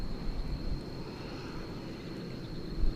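Steady low roar of a distant airplane engine at DFW Airport at night, with a faint high whine, continuous throughout and slightly swelling at the end, with some wind rumble.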